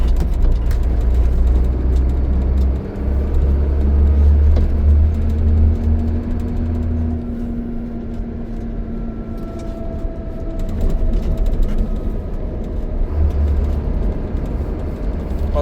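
A slow traffic control truck pulls off ahead on a New Zealand road, heard as a steady, loud low engine rumble from inside a following vehicle, continuous throughout with no talking.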